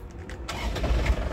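A white 2012 Isuzu Panther Grand Touring starts on the first try: a short cranking whir, then the diesel engine catches and settles into a rough, throbbing idle close by.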